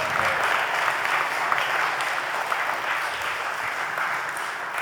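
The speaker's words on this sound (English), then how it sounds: "can we hear another round of applause for the wonderful speeches from the parents" Steady applause from a wedding crowd after the speeches, sustained clapping at an even level throughout.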